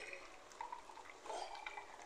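Water splashes and trickles into a pan of black-eyed peas for lobia keema in short pours, moderately close, with faint sizzling and kitchen noise underneath.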